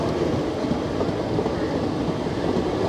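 Vibhuti Express train running on its rails after pulling out of Dildarnagar station, a steady loud rumble with rattling wheel noise throughout, heard from inside the carriage with no talk.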